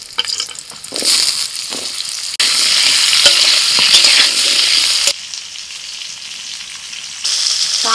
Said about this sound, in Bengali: ওই তেলের মধ্যে দিয়ে দিচ্ছি ওলকপি